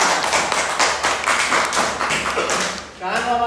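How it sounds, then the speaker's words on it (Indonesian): A classroom of pupils claps for a classmate named Alisa after her turn, a dense burst of applause that carries on steadily before fading, with a voice speaking briefly at the end. "Yuk, tepuk tangan buat kamu Mbak Alisa."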